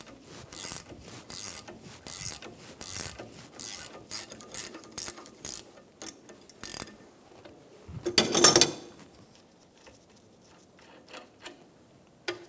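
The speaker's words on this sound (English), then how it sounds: "Using a 14mm wrench on the nut and an adjustable wrench on this top flat part, we're going to take this nut off of the strut." Wrenches, a 14mm on the nut and an adjustable holding the flat, ratchet and click while removing the nut from a rear strut of a 2003-2007 Infiniti G35, in bursts of sharp close clicks and a louder clatter midway.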